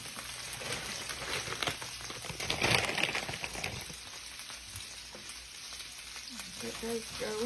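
Frozen crispy hash brown dices fry in a pan at breakfast, giving a steady sizzle that swells briefly and then settles back to a softer crackle, with faint background sounds and no clear speech.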